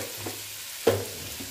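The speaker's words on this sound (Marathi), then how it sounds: "हा गाजर पण टाकूया आणि तेलातच परतून घेऊया" Carrots sautéing in oil in a pan while a spoon stirs them, a soft sizzle broken by a few scraping stirs, one louder clack near the middle.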